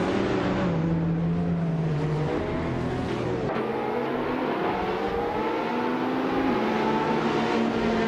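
A 2022 McLaren Elva race car engine on the Nashville Superspeedway infield track in a racing video game, a loud continuous whine that rises and shifts pitch through gear changes, with a sudden change midway.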